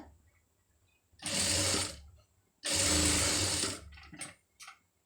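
A sewing machine stitching a cloth sleeve runs in two steady bursts of fast mechanical whirring, each about a second long, followed by a couple of short spurts, close and clear against a quiet background.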